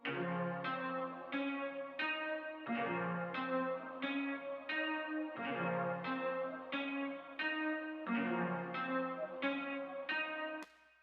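A sampled guitar pattern of plucked, ringing notes layered over a soft sustained choir patch carrying the same melody, steady repeating phrases with reverb, moderately quiet and alone.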